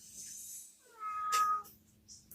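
A cat meows once from inside a house roof, a single drawn-out, wavering call in the middle of an otherwise quiet stretch with faint background hiss and no talking.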